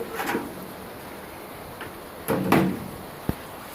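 A homemade pallet-wood door on a tortoise cage is handled, giving a few short wooden knocks and clatters, with a soft scrape near the start and a sharp tap near the end, fairly close in a quiet room.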